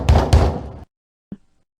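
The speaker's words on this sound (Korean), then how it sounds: "문을 두드리는 소리." Loud pounding on a door in the middle of the night: two heavy, booming knocks close together, then a pause and a single fainter thud.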